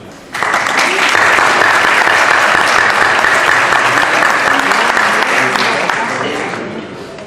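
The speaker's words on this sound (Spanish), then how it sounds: "Vamos a recibirlo con un cálido aplauso." An audience at a talk on a criminal procedure code bill breaks into loud, warm applause to welcome a speaker, starting abruptly and sustained as a dense crowd roar before easing off.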